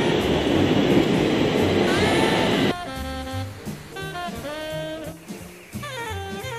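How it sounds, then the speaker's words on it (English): A train rumbles past loudly in Stockholm, a dense roar of wheels and motors that cuts off abruptly into quieter station sounds with tonal electric whines and squeals. "There's the train."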